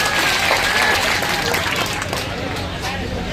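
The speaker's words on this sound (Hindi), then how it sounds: "एक बार जोरदार तालियों के साथ सर का स्वागत किया जाए" Applause welcoming former Dholpur MLA BL Kushwaha at a youth gathering: dense, steady clapping from a crowd that fills the whole stretch, with some background crowd babble mixed in.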